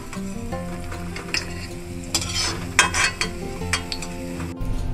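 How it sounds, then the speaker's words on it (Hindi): Cashews roast in a pan with a continuous soft sizzle, joined by repeated clinks and scrapes of a spoon stirring them, close and fairly loud, with no talk. "काजू इसमें डालूंगी और इन्हें भी हल्का गोल्डन करूंगी, ज्यादा डार्क हमें नहीं करने"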